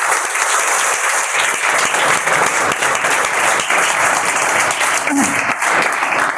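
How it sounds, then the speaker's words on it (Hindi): Loud, dense applause from a seminar audience fills the hall continuously, a thick roar of many hands clapping without pause. "अमित सर के लिए भी एक जोरदार तालियां तो बनती है।"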